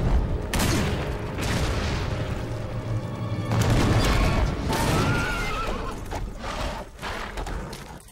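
A horse in the video game Devil May Cry 3 lets out loud, drawn-out whinnies and neighs over booming game sound effects and a dense, rumbling backdrop.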